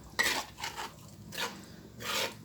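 Chilli paste is stirred into oil in a pan, producing four separate raspy scraping strokes, close and moderately loud, with quiet gaps between them.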